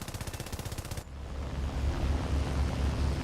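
Rapid video-game gunfire shooting down enemy gunners, a fast close burst of loud repeated shots for about a second, then a low rumbling roar with wind-like noise.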